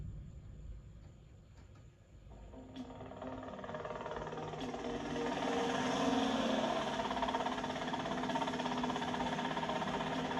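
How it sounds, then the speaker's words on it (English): A helicopter in the video game GTA Vice City flies closer, its dense whirring roar swelling from quiet to a loud, sustained wash of rotor and engine noise. "that's them in the chopper"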